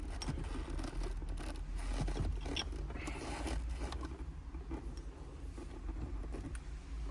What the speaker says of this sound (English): tighten her back up with the 14.